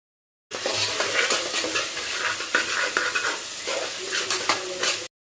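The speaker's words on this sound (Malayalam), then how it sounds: "ഇനി നമുക്ക് തക്കാളിയും കുറച്ച് കറിവേപ്പിലയും ഇട്ട് കൊടുത്തിട്ട് നന്നായിട്ട് ഒന്നും കൂടി വഴറ്റിയെടുക്കണം" Tomato and curry leaves sautéing with meat masala in a pan: a steady loud sizzle with repeated scraping and stirring strokes of a spoon throughout, no talking.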